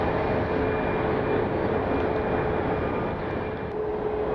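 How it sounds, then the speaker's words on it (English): A CRJ regional jet taxis out at Cleveland Hopkins International Airport, its engines a steady broad roar heard from a distance with a faint whine riding on top, unchanging throughout. "CRJ is taxiing out."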